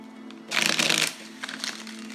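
Tarot cards being shuffled up close, a short riffling burst followed by a softer flutter as the sticky deck is worked by hand.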